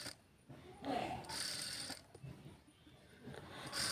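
A sewing machine stitches the neckline of a child's frock, giving faint, close mechanical clicking and whirring in short uneven runs with brief pauses between them.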